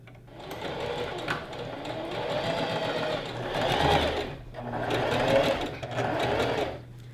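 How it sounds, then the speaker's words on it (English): A sewing machine stitches pocket panels onto a knife-pleat maxi skirt, running steadily and close in long continuous bursts with brief pauses and speed changes, with no talking. "So we'll sew this on one side, and then we'll sew the other pocket on the other side"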